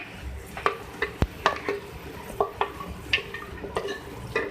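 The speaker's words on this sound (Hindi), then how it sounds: "इसको थोड़ा सा फ्राई किया" Onion and chicken frying in a pot for a chicken handi, with a soft sizzle under repeated clinks and scrapes of a spoon stirring against the metal, close and fairly quiet.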